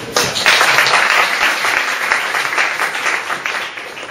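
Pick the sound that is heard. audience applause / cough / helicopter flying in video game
audience applause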